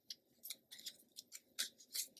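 Tarot cards are shuffled by hand in a quick series of soft, close, papery flicks and snaps, faint and irregular.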